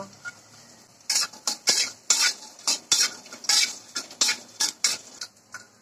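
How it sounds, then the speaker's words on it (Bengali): Lentil dumplings (bori) frying with whole cumin and spices in a pan, stirred briskly: a quick run of loud metallic spatula scrapes and clinks over a soft sizzle, heard up close. "এখন দিয়ে দেব বড়ি। বড়ির সাথে মশলাগুলো সুন্দর করে ভেজে নেব।"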